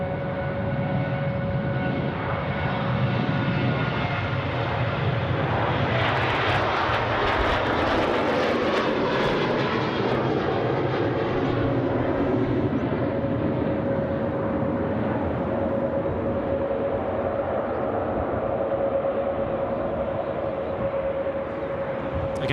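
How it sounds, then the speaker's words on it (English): A Velocity airliner departs runway 34 left at Sydney Airport, its jet engines a loud sustained roar that builds and swells over about twenty seconds, with no voices over it. "the first aircraft there in line is Velocity 820 that's departing to Melbourne"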